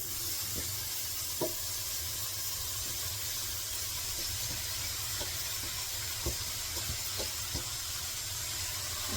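Vegetables go into a pan over onions that were already sautéed with salt, and they give off a steady, soft hiss and sizzle, with occasional light clicks and scrapes. No voices can be heard.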